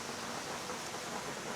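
A small outdoor waterfall water feature splashes steadily, a continuous broadband rush of falling water with no breaks, heard on its own after a rainy day.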